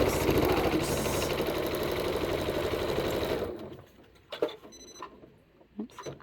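A sewing machine runs steadily, stitching a quarter-inch seam on a quilt block, a loud continuous motor whir for a few seconds before it stops, followed by quiet handling sounds.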